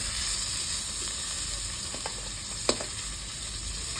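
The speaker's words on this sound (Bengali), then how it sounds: "বন্ধুরা মাছ আমার ভাজা হয়ে গেছে, এবার তুলে নেবো।" Rohu fish pieces fry in hot oil in a pan, giving a continuous close sizzle and hiss with one brief sharp clink midway.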